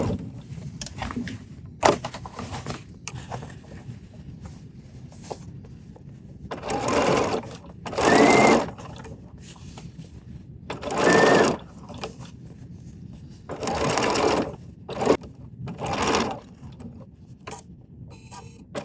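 Sewing machine stitching the hem of flared denim jeans with a lengthened stitch, running in several loud whirring bursts of a second or two each, separated by quieter pauses with faint clicks and handling noise.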